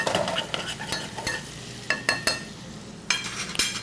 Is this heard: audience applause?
no